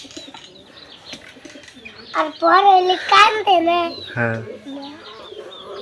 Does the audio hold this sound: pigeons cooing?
yes